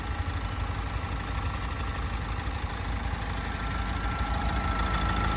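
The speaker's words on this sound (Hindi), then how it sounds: "2 लीटर का एमहॉक इंजन है जो कि 130 bhp पावर प्रोड्यूस करता है" A 2023 Mahindra Thar LX hard-top diesel 4WD with its 2-litre mHawk diesel engine idling, a steady, even engine drone that holds throughout without revving.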